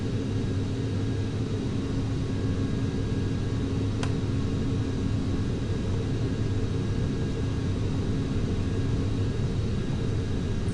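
A jet airliner on its takeoff roll down a JFK runway in Flight Simulator X, a steady, loud engine rumble with broadband roar that holds constant throughout, with no talking.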